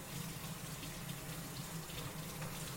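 A spatula rinsed under a running kitchen tap, a steady faint rush of water alone with no talk.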